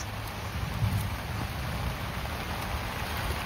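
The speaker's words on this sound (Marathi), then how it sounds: "ते पाऊस इतका झालाय ना काय खरं नाही." Heavy monsoon rain falls in a village setting, a dense, steady wash of noise with a faint low rumble beneath and no voices.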